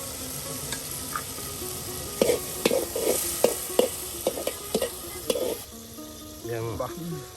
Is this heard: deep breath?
no